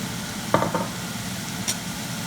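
Coconut and a little oil are stirred into chickpea curry in a pan, a low frying hiss with a couple of quick scraping stirs and a brief clink.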